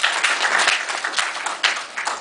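An audience at a symposium lecture answers a question with applause, a short burst of scattered clapping from a modest crowd, uneven and swelling in small waves before fading.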